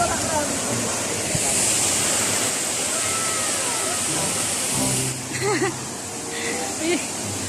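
Bolinao Falls roars with a steady, broadband rush of falling water, loud and constant. Voices and laughter come through over the torrent in the latter part.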